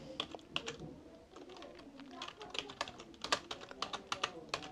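Keys clatter on a computer keyboard in close, quiet, uneven bursts of fast taps as a prompt is typed into ChatGPT, with no talking over it.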